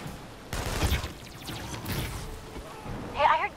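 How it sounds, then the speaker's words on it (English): Bursts of gunfire and crashing impacts from the PS4 game inFamous: Second Son, with scattered shots and a rumbling blast, mixed with some voice-like sound. "I heard gunfire."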